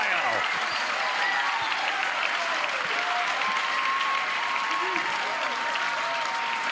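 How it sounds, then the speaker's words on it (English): Crowd applause and cheering at a professional pickleball match in Ohio, a dense, steady wash of clapping that stays loud throughout, with scattered voices and excited exclamations mixed in. "The oohs and the ahs of the crowd, and we're right there with them."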